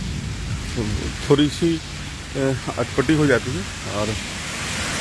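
Steady rain falls in Patna as a broad wash of noise, with someone talking in Hindi over it throughout.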